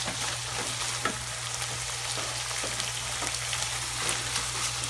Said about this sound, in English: And mix it together.